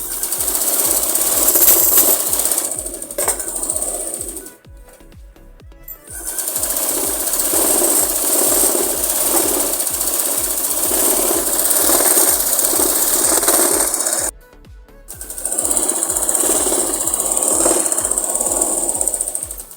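Sewing machine stitching a plazo (palazzo pants), a fast steady motor-driven needle rhythm running in long bursts with brief pauses between seams, close and loud.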